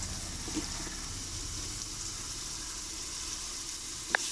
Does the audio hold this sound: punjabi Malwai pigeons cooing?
no